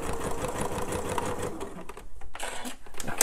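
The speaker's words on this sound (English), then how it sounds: "I pivot again with the needle in the down position and then sew back the other side" A sewing machine stitches a purse seam and pivots with the needle down, producing a close, steady, fast mechanical whir with a brief dip in the middle before resuming.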